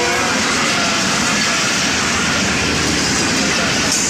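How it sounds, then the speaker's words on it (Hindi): A passenger train rolls in at a railway station, a loud continuous rumble with steady rail clatter and hiss filling the whole stretch. "फाइनली बार रेल गाड़ी पहुंच गई।"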